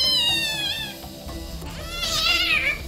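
A cat with a fractured leg cries loudly during a veterinary home visit, drawn-out wavering meows rising and falling across the clip, close and alone without talk.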